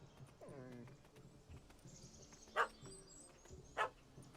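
A small dog barking in The Witcher 3 video game: two sharp, loud barks spaced about a second apart, over low ambient game sound and faint background voices.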